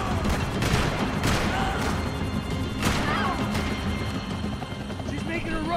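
Rifle shots ring out in the Max Payne 3 video game on PC, several sharp cracks spaced a second or so apart over a dense, noisy backdrop of game action and voices.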